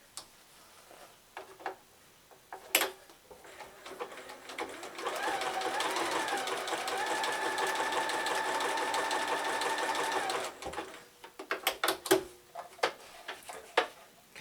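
A Bernina sewing machine runs a steady, continuous zig-zag stitch on applique for about five seconds, flanked by scattered clicks and handling taps before and after.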